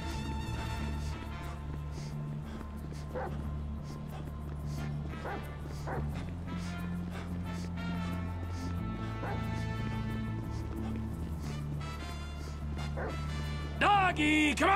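Dog barks and yips in Grand Theft Auto V, scattered short calls over a steady layer of game music, with voices talking at times.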